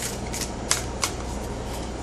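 Oracle cards riffle and slap together in quick repeated bursts of crisp papery shuffling, close and fairly soft, with a few sharper snaps along the way.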